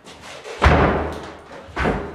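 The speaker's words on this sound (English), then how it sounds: "And that door is shut and sweet." A newly installed pre-hung exterior door is shut, landing as a firm close thump, followed by a second lighter thud about a second later.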